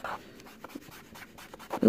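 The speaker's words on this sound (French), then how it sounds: "le coton-tige fait quand vous passez sur le papier" A cotton swab rubs pastel across a Peter Pan colouring page in a run of short, soft scratchy strokes, close and fairly loud, with no talking.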